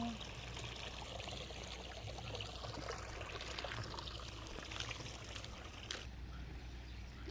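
Irrigation water pours and trickles steadily into a rice paddy, a faint, continuous rushing and splashing with no break.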